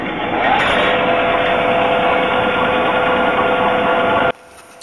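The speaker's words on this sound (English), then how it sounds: "What I'm doing here is I'm going through and I'm taking the brackets that I'm gonna be making and I'm cutting them." A power tool cuts brackets for RV-10 wing hinge bracket subassemblies, a loud, steady whining drone running for over four seconds before stopping abruptly, leaving faint room noise.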